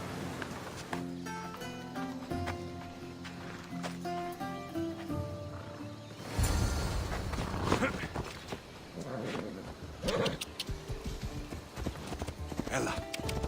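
Horse hooves clip-clop at a steady riding pace in an ancient Greek action game, mixed with music and spoken dialogue.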